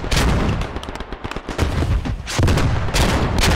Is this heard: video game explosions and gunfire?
yes